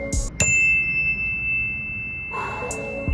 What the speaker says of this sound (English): I make sure to set those little tones here with my little chimes that I got going.